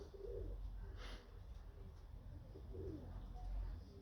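Pigeons in a breeding loft coo softly and far off, two low phrases near the start and again around the third second over a quiet background hum.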